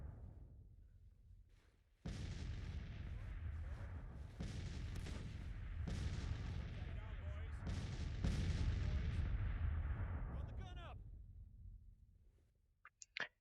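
Battlefield cannon fire from 3-inch ordnance rifles in Grand Tactician: The Civil War, a sustained roar of booming artillery and rumbling gunfire that starts abruptly and carries on before fading into scattered sharp reports.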